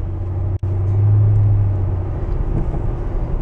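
A Toyota Tundra pickup truck converted to front wheel drive, heard from inside the cab as a steady low engine and road hum with a brief dropout and a droning tone near the start.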